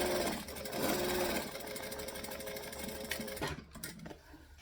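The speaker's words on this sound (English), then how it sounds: "and I'm going to back stitch. Stitch, back stitch, pivot. Needle down, stitch and back stitch." A domestic sewing machine runs stitch and back-stitch passes nearby, a steady mechanical whir with brief pauses and changes as direction switches, then a few clicks as it stops.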